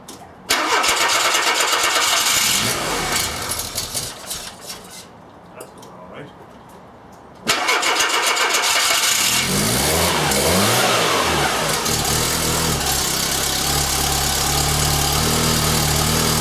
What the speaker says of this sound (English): Okay, so let's get the engine started first.